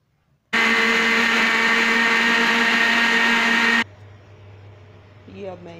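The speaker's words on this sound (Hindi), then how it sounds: "अब मैं इसको ग्राइंडर जग में डाल के तो ज़रा इसको थोड़ा सा ग्राइंड कर लूँगी।" A mixer grinder jug blends kinnow orange pulp for marmalade with a loud, steady high-pitched whir for about three seconds, then cuts off abruptly, leaving faint room noise and a brief soft clatter.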